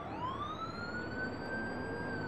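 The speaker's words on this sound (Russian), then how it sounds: "Машина скорой помощи без остановок едет в больницу" Ambulance siren in a children's cartoon about toy cars, a smooth rising electronic wail that climbs and then holds steady, heard clearly on its own without speech.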